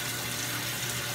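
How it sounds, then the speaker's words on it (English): Cold tap water gushes steadily into a bathroom basin before a wet shave, a close, continuous hiss and splash with no pauses and no voices. "Put some water in the basin here for a little whip."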